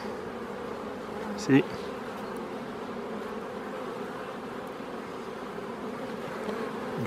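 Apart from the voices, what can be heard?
honeybees buzzing in an opened beehive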